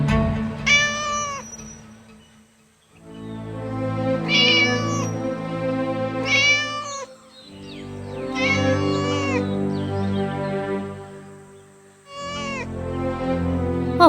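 A cartoon cat gives long drawn-out, wailing meows, repeated about five times with short pauses between, loud and close, with no talking.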